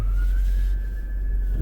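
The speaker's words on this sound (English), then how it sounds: "I'm going to just let the ambulance go right by" An ambulance siren wails as it passes close by, a loud sustained tone gliding slightly in pitch over a deep engine rumble and road noise.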